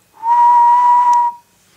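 A single clear, steady whistled tone from a person, held for about a second at one pitch, loud and close with no talking.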